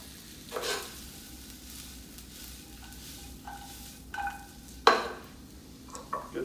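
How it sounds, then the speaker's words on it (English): Mushrooms for a Philly cheesesteak fry in a pan with a soft steady sizzle, broken by several scraping stirs and a louder clank of a utensil against the pan near the end, close by and without talk. "I like to throw in the mushrooms first because I like them to get more caramelized than they"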